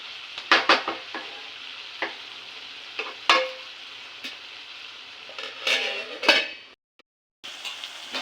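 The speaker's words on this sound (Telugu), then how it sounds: "అలా పచ్చిమిరకాయలు అన్నీ వేసేసుకుని మూత పెట్టేసుకుని మగ్గనిద్దాం" Green chillies frying in a pan give a soft, continuous sizzle, broken by sharp clinks and scrapes of a utensil stirring against the metal and a brief lid clatter near the end, with no talking.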